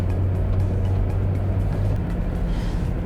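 Steady low road and engine rumble inside a first-generation Mazda 6 at 90 km/h on a motorway, a constant droning hum of about 63 decibels with no talking.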